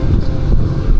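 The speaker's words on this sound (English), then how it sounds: "it's very windy right now from my left" Strong wind buffeting a camera's built-in microphone outdoors, a loud continuous low rumble that churns unevenly for a second with no other sound.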